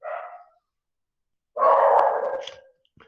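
A dog barks indoors in two bursts: a short yap, then after a pause a louder, longer run of barking that trails off. The barking is near and heard alone.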